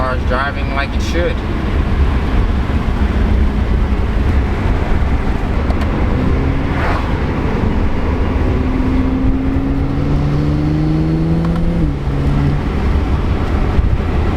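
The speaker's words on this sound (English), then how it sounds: "I can hear the intake spooling." BMW E92 335is with VRSF intakes driving under steady loud road and wind roar, rising whistling turbo-like tones sweeping upward in the middle and late part, with a voice speaking partway through.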